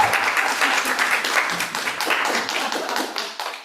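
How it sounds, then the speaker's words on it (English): Audience applause at a queer literary reading series event, a dense, steady patter of many hands clapping close by for nearly four seconds before tapering off at the end. "Go ahead and clap, thank you."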